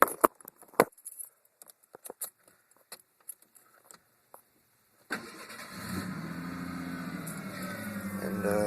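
Ford Ranger 2.9 V6 with a welded muffler: keys jingle close by for several seconds, then the engine cranks, catches and settles into a steady, loud idle.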